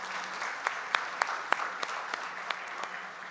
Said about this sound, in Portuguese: Aplauda o Senhor pelos nossos papais